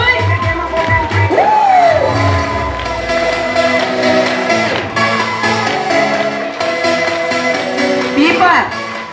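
At the Bolshoy Utrish dolphinarium show, a stadium crowd cheers and applauds loudly in a continuous roar beneath an announcer's excited voice that talks over it throughout.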